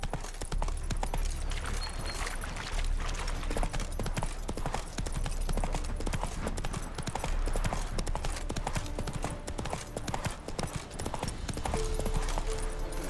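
Horse hooves clip-clop at a steady trot in The Witcher 3, a lively rhythmic clatter of hoofbeats that runs from start to finish over a faint background.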